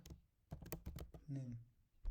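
Text is typed on a computer keyboard in quick bursts of sharp, close key clicks separated by short pauses, with a voice briefly audible between them.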